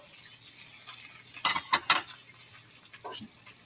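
Tomatoes hit hot oil in a pan for a Caribbean dish, giving a soft low sizzle broken by a few sharp clatters and scrapes of a utensil on the pan.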